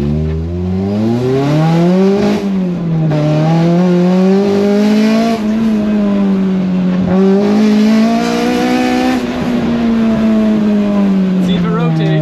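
A Honda CRX with newly modified suspension drives steadily, its engine note holding a smooth, sustained hum that rises and falls with throttle changes throughout, close and loud with no pauses.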